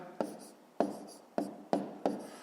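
Pen strokes writing numbers by hand during multiplication, five distinct scratchy taps at a regular rhythm, close and clear with no talk.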